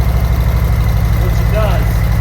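A motorcycle idles in neutral after starting, a steady loud low engine rumble with even pulsing throughout, and a brief higher tone rising over it partway through; no one speaks.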